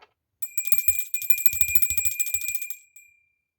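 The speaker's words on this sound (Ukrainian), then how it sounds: "Дзвенить жовтий дзвоник." A small yellow bell rings close by in a rapid, bright, trilling burst lasting about two seconds. It stops cleanly, with a faint click before it.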